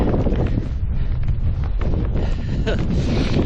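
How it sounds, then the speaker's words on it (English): Strong wind buffets the microphone on an exposed hillside walking trail in Wales, a loud, continuous roaring rumble that fills the whole stretch. "I'm walking into the wind again."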